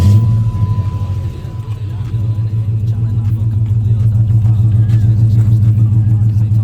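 A 2005–2010 Dodge Magnum / Chrysler 300 engine cold-starts and settles into a steady, loud low rumble that builds slightly over several seconds, heard close up from inside the car.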